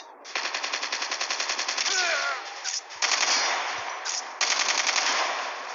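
Machine gun fire in Call of Duty Mobile comes in rapid, loud, sustained bursts with evenly spaced shots, broken by short pauses between volleys.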